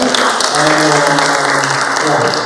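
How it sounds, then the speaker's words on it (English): An audience at a world sustainability panel discussion gives a loud round of applause to the panel, close and continuous clapping that fills the whole stretch at steady strength. "A big round of applause for our panel."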